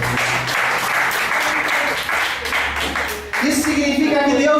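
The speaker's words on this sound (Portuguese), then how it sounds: "Pode aplaudir a Priscila." An audience applauds Priscila at a church gathering, a steady wash of clapping hands heard close and continuous, swelling slightly louder toward the end.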